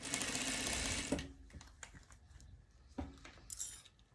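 A sewing machine stitches fabric, running in a fast, loud mechanical whir for about a second, then slowing into separate light clicks and taps as it goes carefully over a pin.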